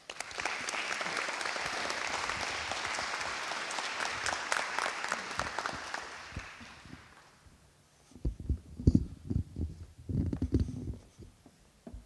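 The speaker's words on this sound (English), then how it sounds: "So let's welcome Judy with a round of applause" An audience applauds to welcome a performer onto the stage, dense clapping for several seconds that fades out, followed by footsteps and a few scattered thumps.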